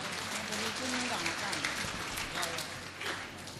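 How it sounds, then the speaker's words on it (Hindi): An audience claps at a spiritual gathering, a dense, fairly faint patter of many hands running throughout the short burst, with a voice speaking over it. "ताली बजाओ"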